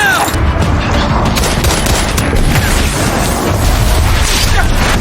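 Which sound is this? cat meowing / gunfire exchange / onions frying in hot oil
gunfire exchange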